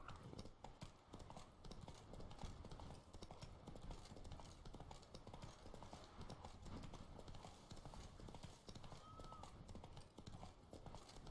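Steady rhythmic clip-clop of horse hooves trotting along in The Witcher 3: Blood and Wine, continuous and close, over a dense game background with faint speech mixed in.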